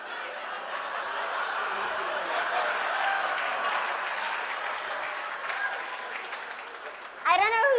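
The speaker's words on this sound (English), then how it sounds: "I don't know who's clapping more, the men or the women" Audience at a Harvard class reunion symposium applauds in a sustained, dense wash of clapping mixed with some laughter, steady and fairly loud, before a voice begins speaking near the end.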